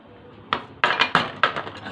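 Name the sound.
spoon handled among kitchen utensils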